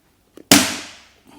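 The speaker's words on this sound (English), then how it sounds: "just one push of the gun is enough to get it moving and get it tacked on" A dent-repair welder gun tacking onto a car body: a couple of tiny clicks, then a single sharp crack that decays over about half a second, close and alone.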